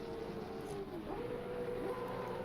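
Supercars idle on the grid at a race start in a sim racing game, their engines a low, fairly quiet drone with one brief dip in pitch near the middle.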